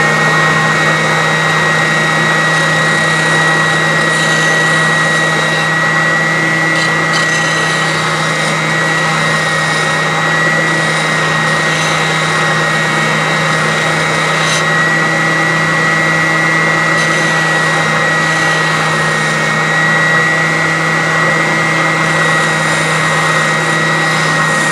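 Oscillating sander running steadily on a piece of timber being shaped into a fishing-net handle, a continuous close motor whine with a constant buzzing tone throughout and no talking.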